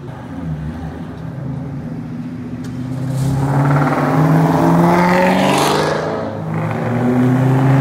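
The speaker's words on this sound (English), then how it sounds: "the Toyota is making some cool noises" A Toyota car's engine revs loudly at a roadside car-spotting outing, the sound swelling and climbing in pitch as it passes close by, then easing off before building again, with no voices over it.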